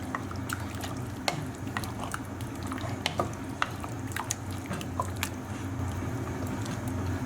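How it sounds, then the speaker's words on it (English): Eggplant being mixed into a cooking pot for Lebanese maghmour, a soft continuous simmer under scattered wet squishes and light spoon clicks, close and fairly quiet with no talking. "And at this stage we'll add in our eggplant. And we're going to mix that together as well."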